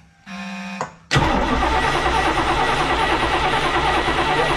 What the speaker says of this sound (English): He's gonna crank the engine again